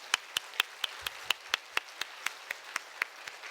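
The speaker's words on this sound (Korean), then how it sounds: "다시 한번 우리 격려의 박수 하겠습니다" Rhythmic unison clapping from a congregation at a Wednesday evening church service, sharp even claps about four per second, moderately near and fairly quiet, with no voices.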